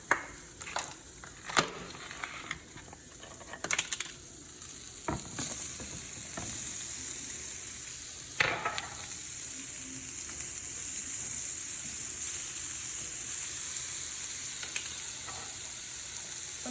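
Yellowfin tuna and vegetables fry in a nonstick-sprayed pan with a steady bright sizzle, broken by sharp clicks and scrapes of stirring and flipping, close and continuous.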